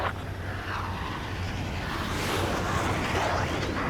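Helicopter in the Ace Combat 7 video game, a steady whooshing rotor and engine roar that swells slightly toward the end, continuous broadband noise with no talk over it.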